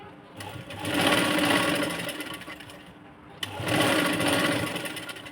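Sewing machine stitching the shoulder seam of a sleeveless princess-cut blouse, running loud and steady in two bursts with a short pause between them, with no talk over it.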